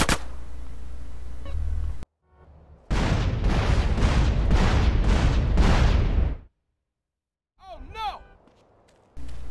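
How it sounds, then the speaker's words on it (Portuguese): Explosions and gunfire in the video game GTA San Andreas, a loud dense burst of blasts lasting several seconds after a short noisy stretch, then silence and a few sharp whooshing effects. "Já era, explodiu tudo."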